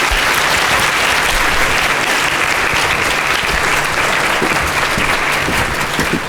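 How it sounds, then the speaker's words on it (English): Dense, sustained applause from a conference audience at the end of a keynote talk, loud and steady throughout with no break. "So how about another round of applause?"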